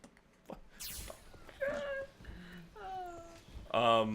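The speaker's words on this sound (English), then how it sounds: "My cat just meowed at me." A house cat meows several times in short, separate calls close by, spread across a few seconds, with a person talking quietly in between.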